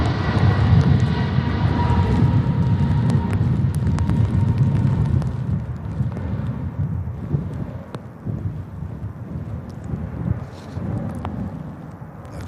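A Pegasus airliner at Manchester Airport during a storm, its engines producing a loud, steady low roar that fades slightly over time, with wind buffeting the microphone throughout.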